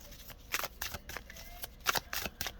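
A new, still-stiff deck of Mystical Medleys playing cards being shuffled up close, a quiet run of crisp riffling flicks and snaps in an irregular rhythm.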